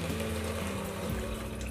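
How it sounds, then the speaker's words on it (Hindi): Continuous rush of water pouring into rice in a pressure cooker, steady and fairly close, with a low hum underneath. "चावल डालने के बाद इसमें पानी ऐड कर रही हूँ।"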